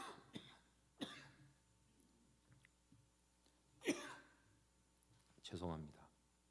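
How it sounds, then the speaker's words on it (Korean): A lingering cough after a cold during a Sunday church sermon: four separate coughs and throat-clearing bursts spaced over several seconds, close and fairly loud, the last one longest and harshest. "이번에 감기를 한번 했더니 장기침이 감기 한 기간 동안 보다 더 길게 가는 것 같습니다."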